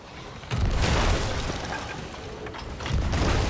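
Ship cannons fire in the pirate game Sea of Thieves, two deep booms about two seconds apart, each followed by a rumbling roar, loud and close with no talk over it.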